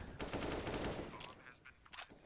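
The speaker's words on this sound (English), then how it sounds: "Wallman gets the headshot onto Mike." Rapid automatic gunfire in a team-based tactical shooter match, loud close bursts of shots filling the first second and a half, then a few sharper isolated shots trailing off, with a commentator talking under it.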